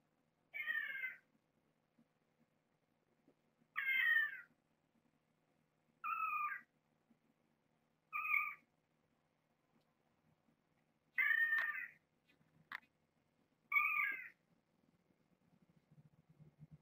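A recording of a cat meowing plays back quietly: six separate drawn-out meows spaced a couple of seconds apart, each ending with a slight catch, over near silence.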